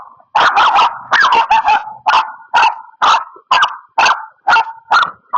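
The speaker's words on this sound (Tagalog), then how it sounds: "Ganyan po yan kapag nagagalit po yung aso na yan." An angry dog barks in a steady series of about eleven sharp, loud barks, evenly spaced and close, with no voices over them.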